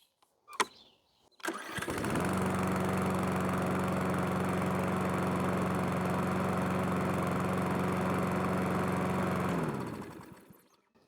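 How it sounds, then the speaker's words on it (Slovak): Parkside Performance PPBRM 53 B2 petrol lawn mower, 4.2 kW engine, starts with a short pull and a sputter, then runs at a steady, even, loud idle for about eight seconds before cutting off and winding down. "Ďalej sa pozrieme na hlučnosť spaľovacieho motora."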